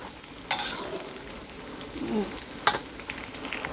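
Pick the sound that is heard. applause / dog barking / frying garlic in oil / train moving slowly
frying garlic in oil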